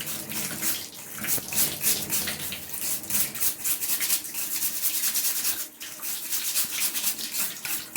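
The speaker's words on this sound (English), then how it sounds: "we use normal water for cleaning these separated parts, like this way" Separated parts of a Junkers ZSB223C23S boiler are washed with plain water and scrubbed with a brush, giving rapid, rhythmic scratchy strokes over a steady splash of running water, loud and close.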